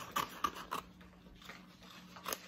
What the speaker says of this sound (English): So I've done 5 cuts up to the line.